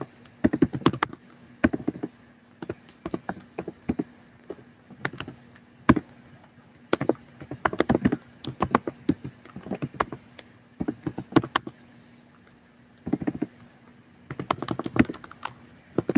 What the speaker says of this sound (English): typing it in right now.